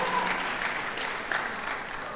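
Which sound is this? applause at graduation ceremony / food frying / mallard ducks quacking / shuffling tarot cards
applause at graduation ceremony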